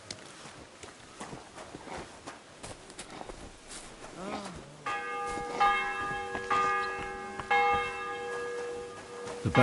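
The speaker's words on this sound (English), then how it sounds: "The bell's ringing for Hans the 5th time." Church bell tolling in a video game, entering midway with several resonant ringing strikes that sustain and overlap, following footsteps and movement noises.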